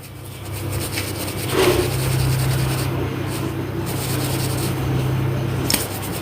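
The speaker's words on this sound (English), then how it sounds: "Then it says wipe clean with the microfiber cloth." A microfiber cloth is rubbed over the wooden head of a golf club, giving a steady, close, dry scuffing and wiping that runs throughout with small swells in strength.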